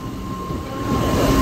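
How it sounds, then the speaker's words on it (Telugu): A 12-coach MEMU electric train rolls into Karimnagar railway station, a steady rumbling wheel-and-track roar with a faint high whine, loud and near, without voices. "7:55 రావాల్సిన మన ట్రైన్ 8:30 కరీంనగర్ రైల్వే స్టేషన్కి చేరుకోబోతుంది"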